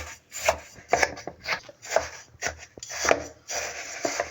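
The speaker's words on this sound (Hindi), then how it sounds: "थोड़ा सा चम्मच की मदद से इसे इस तरह तोड़ेंगे" Vermicelli broken up with a spoon, a run of quick, close crunching and snapping taps in an uneven rhythm, some rubbing scrapes between them.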